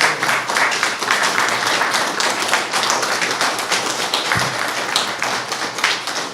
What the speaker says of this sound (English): please let me hear a round of applause.